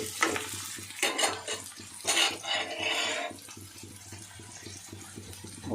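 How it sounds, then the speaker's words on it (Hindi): Paneer saag is stirred in a cooking pot, with bursts of scraping and bubbling sizzle that settle into a quieter simmer partway through. "उसमें ही थोड़ा से चलाना भी है"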